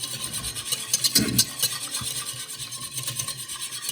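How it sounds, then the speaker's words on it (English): Sugar and yeast mixture whisked in a bowl, a steady scraping, rasping rhythm of quick strokes, close and moderately loud, with a denser burst near the middle. "We're going to whisk it up"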